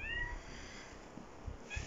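A frightened cat meows a couple of times, a thin rising cry at the start and another near the end, fairly faint, over outdoor background noise and soft rustling.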